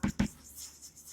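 Writing on a board in a Class 10 maths lesson on linear equations, opening with two quick tapping knocks close together, then a faint trailing scratch under quiet room tone.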